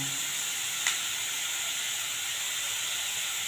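Dried fish sautéing in a pan gives a steady, even hiss of sizzling, close and continuous, with one brief tick near the start and no voices.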